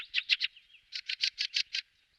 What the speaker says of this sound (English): Feel the sounds of the birds.